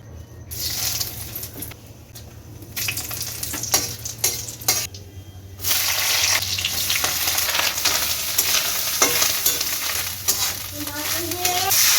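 Oil sizzling in a wok (kadai) as jhura ghugni cooking begins, a continuous close crackling hiss that swells louder midway, with scattered stirring clicks and no talk.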